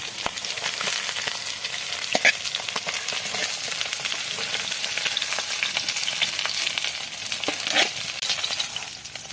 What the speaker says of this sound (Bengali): ছুরি মাছ ভাজা হয়ে গেছে